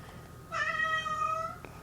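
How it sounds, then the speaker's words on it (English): A cat gives one drawn-out meow, clear and fairly close, against a quiet room with faint low background hum. "that's my cat"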